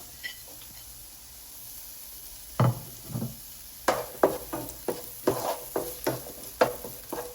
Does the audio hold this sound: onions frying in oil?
yes